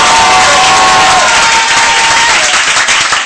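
Loud applause and cheering from a church congregation at a prophetic worship gathering in Côte d'Ivoire, a dense, sustained roar of clapping and shouting that fills the whole stretch without letting up.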